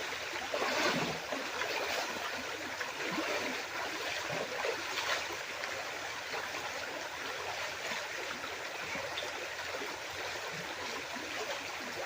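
Water rushes steadily in a flowing stream, a constant soft roar with faint splashing, moderately distant and uninterrupted, with no voices.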